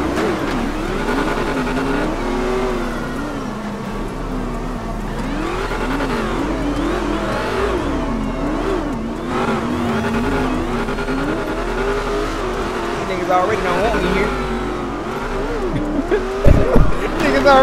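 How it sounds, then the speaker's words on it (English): A Dodge Charger engine in a roleplay driving game rises and falls through repeated revs, its pitch sweeping up and down. The loud, close engine runs continuously, with brief sharper bursts near the end. "Every morning they hear that fucking charger crank up."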